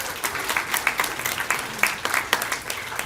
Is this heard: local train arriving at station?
no